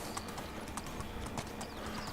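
Horse hooves clip-clop steadily at a walking pace in the Medieval Dynasty video game, over a continuous background of game ambience, with no talking.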